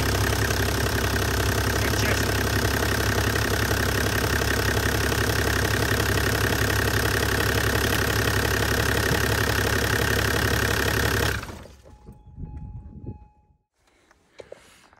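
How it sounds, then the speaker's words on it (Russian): A Toyota Land Cruiser 80 engine runs at a steady, loud idle with a continuous drone for about eleven seconds, then cuts off abruptly, leaving faint rustles and near silence. "зажигание включил, чтобы завелась или не завелась"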